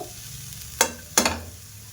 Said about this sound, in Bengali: ফ্রাইং প্যানটা গরম হয়ে গেছে। এবার আমি আমগুলো দিয়ে দেব।